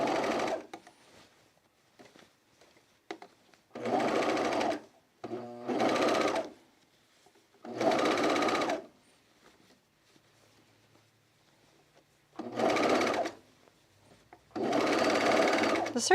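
A serger runs in several separate bursts of about a second each while sewing a seam on a V-neck coat, with quiet gaps of handling between the runs and no talking.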